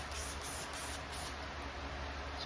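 All-purpose cleaner mists from a spray bottle onto a car's polished exhaust tips, a continuous close, soft hiss with slight pulsing and no talk.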